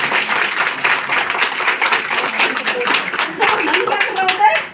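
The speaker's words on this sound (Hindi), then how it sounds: "प्रमीला भार्गव जी, हम सबकी अपलाइन के लिए ताली बजा सकते हैं।" Audience clapping at a Modicare training event in Jaipur, a steady run of many hands under a busy room, with voices mixed in throughout.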